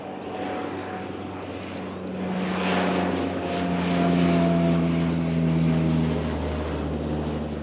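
A Dash propeller airliner passes overhead, its steady droning engine and propeller hum swelling louder toward the middle and holding strong, with a shifting tonal whine as it goes by.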